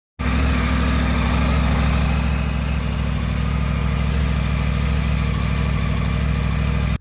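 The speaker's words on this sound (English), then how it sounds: "I haven't seen the need to get a new exhaust system. It's pretty quiet, but it's not a bad noise, it's not a good noise." A Triumph Tiger 900 motorcycle idles steadily on its stock exhaust, a loud, close, continuous low engine rumble running unbroken for about seven seconds with no voices.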